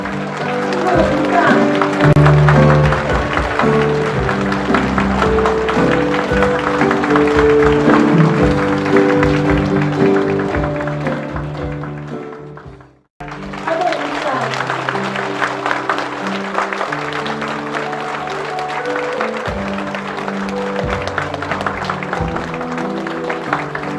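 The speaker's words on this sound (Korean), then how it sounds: "큰 환호와 박수로 맞이해 주시기 바랍니다" Cheering and applause welcome a priest at a feast-day celebration in a Korean Catholic parish. The sound comes with music and voices, cuts out abruptly midway, then resumes.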